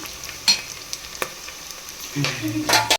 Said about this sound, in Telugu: ఆనియన్స్ అయితే గోల్డెన్ బ్రౌన్ కలర్ వరకు ఫ్రై అయిపోయినాయి.